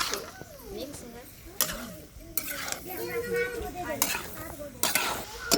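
Potatoes are stirred into masala in a pan on a clay chulha stove, with intermittent scraping and sizzling bursts under ongoing talk.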